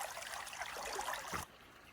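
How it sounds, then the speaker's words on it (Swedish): A small forest stream trickles and burbles steadily up close, then cuts off abruptly near the end, with no talk. "idag hittar vi den här bäcken efter 9 kilometer."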